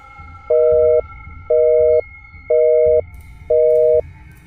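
A telephone busy tone sounds after a call disconnects, four evenly spaced half-second beeps with equal pauses, loud and clear over a faint background hum.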